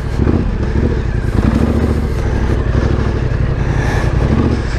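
A Yamaha Tenere 700 adventure motorcycle riding a tight off-road trail, its engine droning loud and steady close by with small shifts in pitch and no pause.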